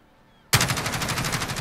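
MG433 machine gun in Call of Duty Modern Warfare opens up abruptly after a brief quiet moment, a loud sustained rapid-fire burst of evenly spaced shots, close and continuous.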